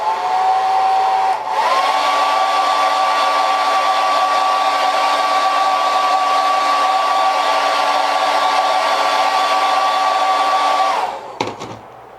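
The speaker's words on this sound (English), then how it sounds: "Heat set it and hit some more coats on it." A heat gun heat-setting paint on a fishing lure blows loud and close with a steady whining hum, dips as it steps up in pitch, runs evenly for about ten seconds, then cuts off with a clatter.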